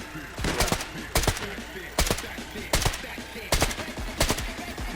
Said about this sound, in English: Oh, I'm shooting at the barn.